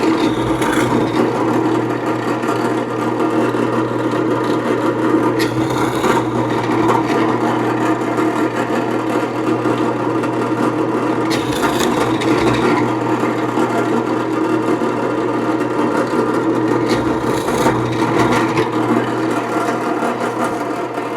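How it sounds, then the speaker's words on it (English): A power tool grinds and whirs continuously and loudly while cutting keyhole slots in wood for Shaker hooks, its tone rising and falling slightly as the bit bites in, with a few brief brighter scrapes along the way. "So I want to cut these holes 1, 2, 3, 4, 5, 6 in the 6 spots that I laid out."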